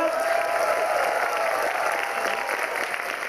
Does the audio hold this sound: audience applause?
yes